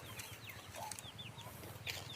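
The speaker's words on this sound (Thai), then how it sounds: "ไก่บ้านก็ประมาณ 30ถึง50 ตัวนะครับ" Backyard layer chickens, a flock of about 30 to 50, cluck and chirp faintly in the distance over a steady low hum, with scattered short calls throughout.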